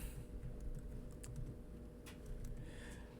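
Fingers typing on a computer keyboard: a quick, uneven patter of light key clicks, close but faint, over a steady low hum throughout.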